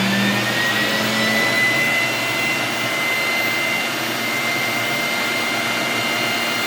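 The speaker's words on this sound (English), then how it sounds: "So you're just going to turn that knob, and that turns your machine on." A Breville home juicer's motor runs on its high setting, giving a loud, steady whirring whine that holds at one level throughout with no speech.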